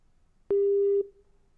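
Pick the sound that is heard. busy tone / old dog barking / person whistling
busy tone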